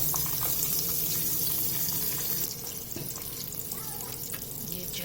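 Steady hiss and crackle of green chilies frying in hot oil, close and continuous, with faint clinks of stirring.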